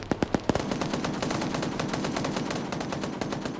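Machine gun fire from a vehicle-mounted gunner in an online video game match, opening with a few sharp, spaced shots and then running into a loud, sustained burst of rapid fire with no talking.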